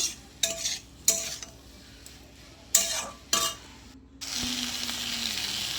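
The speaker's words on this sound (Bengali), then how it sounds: "এইভাবে এগুলো ভালোভাবে মশলাটা আমি মিশিয়ে নেব" A spoon scrapes and knocks in a pan while spices are mixed into frying vegetables, several sharp clanks spaced apart, then a louder sustained sizzle rises at the end.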